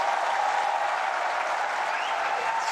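Tennis crowd applauding in Shenzhen at a Billie Jean King Cup Finals match, a steady, even wash of clapping from a large arena audience with no voices standing out.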